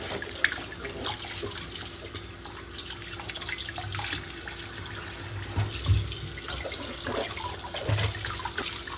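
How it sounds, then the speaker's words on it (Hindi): Fresh vegetables are rubbed clean under a kitchen tap, with water running steadily into the sink, splashing and shifting as hands move, plus occasional small knocks and drips, no one speaking. "मल मल के सब्ज़ियाँ धोया करें 2-3 दफ़ा"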